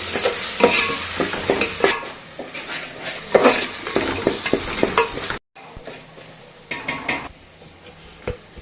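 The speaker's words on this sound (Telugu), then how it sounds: "అన్నీ వేసిన తర్వాత మొత్తం కలుపు వేసుకుందాం" A spoon scrapes and stirs beef curry with spices in a pan, giving rhythmic clanks and scrapes over a soft sizzle, briefly pausing and then resuming.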